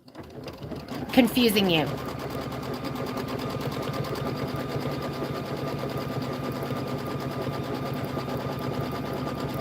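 A sewing machine runs in a steady, continuous whir, loud and close, after a brief louder burst near the start; a voice speaks briefly over it.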